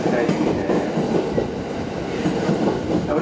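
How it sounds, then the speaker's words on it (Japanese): A JR Takasaki Line 211 series out-of-service electric train departs Kagohara Station with a continuous rumbling, clattering drone, steady and fairly loud throughout. "停車中の回送電車発車をいたします"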